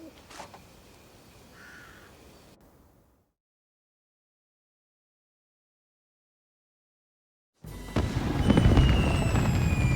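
Fireworks in the video game Crimson Desert: after quiet ambience and a stretch of silence, a loud, dense crackling and booming burst erupts and continues to the end.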